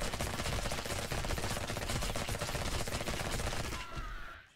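Sustained rapid automatic turret gunfire in a video game, a dense loud unbroken burst of shots lasting several seconds before cutting off, with no talk over it.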